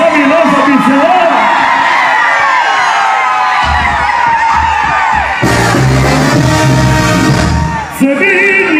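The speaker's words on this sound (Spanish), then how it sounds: "Yo quiero que se vea con un pinche grito." A festival crowd at a fiesta in San Vicente, Querétaro shouts, whoops and cheers loudly and continuously, with music playing and a voice calling out over the noise.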